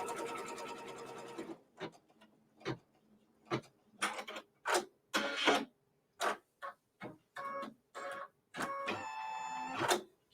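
Embroidery machine stitching a quilt piece in the hoop, a steady whirring hum and then a string of sharp mechanical bursts and ticks, close and alone.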